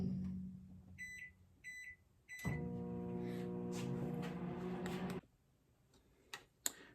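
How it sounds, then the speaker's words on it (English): A microwave oven heating plastic for making fishing stick baits: a few short beeps, then a steady hum for a few seconds, ending with a soft click and more beeps, heard up close. "let me throw this back in the microwave for a couple seconds"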